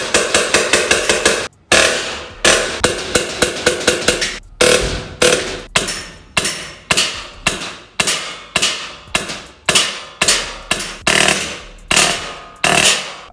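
Rapid series of sharp, snappy shots from a Sleeper ARP 9 HPA gel blaster, about two to three per second with brief pauses, loud and close, each followed by a quick decay.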